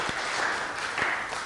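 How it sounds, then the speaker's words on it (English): An audience applauds a performer at a live show, giving a dense, steady wash of clapping that stays even throughout. "Another round of applause for Peter Uppman."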